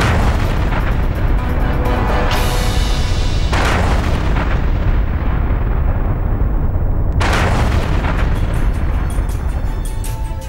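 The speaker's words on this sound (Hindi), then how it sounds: "जैसे ही छपरा सिविल कोर्ट में यह धमाका होता है" A bomb explodes at the civil court in Chhapra, Bihar, set off by a woman with explosives strapped to her body. The sound is a loud, sustained roar of booming blasts that surge and fade, with no voices.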